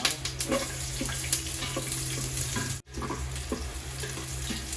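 Garlic sizzles in hot oil in a pan at the start of a tinola, a steady close frying hiss with small crackles, broken by one brief dropout.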